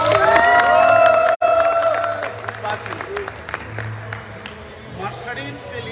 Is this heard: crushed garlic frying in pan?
no